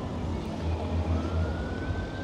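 An ambulance siren sounds along Blackpool's seafront promenade on a busy Saturday night, its steady wail carrying over a continuous low rumble of traffic and crowd noise.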